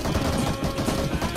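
Dense, rapid gunfire crackles nonstop for the whole moment, loud and sustained like automatic weapons in PUBG Mobile, with no talking.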